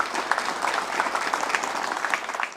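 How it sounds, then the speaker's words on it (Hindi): An audience claps warmly to welcome a panelist at a school higher-education discussion event, a dense steady applause that fades slightly toward the end. "इनका भी जोरदार तालियों से आप सभी स्वागत कीजिए"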